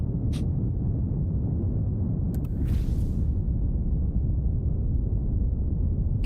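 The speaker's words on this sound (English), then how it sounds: "that is the sound of the thrusters thrusting." Rocket thrusters fire in Kerbal Space Program 2 with a steady, loud low rumble that continues throughout, broken by a few brief higher clicks and a short hiss partway through.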